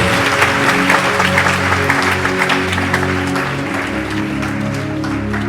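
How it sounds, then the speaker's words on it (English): Audience applause closing a presentation at an event: steady, dense clapping throughout, with sustained tones running underneath. "Give yourself a big round of applause."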